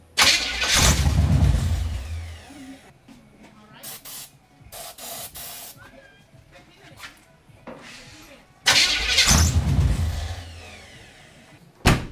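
A semi-stock 350 V8 with a mild cam, double-hump heads, an Edelbrock carb and open headers cranks and fires up. Two loud bursts of roaring exhaust are separated by quieter idling and clatter, and a voice speaks briefly.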